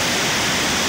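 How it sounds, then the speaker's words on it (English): A waterfall in Walton Glen Gorge pours as a dense, even hiss of falling water, loud and close, with no gaps or voices over the brief stretch. "There's another falls down here too, I guess."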